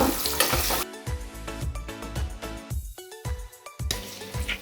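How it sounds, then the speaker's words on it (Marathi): Masala-coated boiled eggs fry in hot oil with a bright, crackling sizzle, loudest at the start and end, mixed with tonal background music and occasional stirring. "मसाला लावायचा पाच मिनटं फक्त असे फ्राय करून घ्यायचे"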